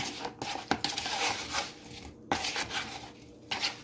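A spoon scrapes and clinks around a pan while garlic powder is stirred into shrimp and grits, with a few sharp metallic taps between rough scraping strokes.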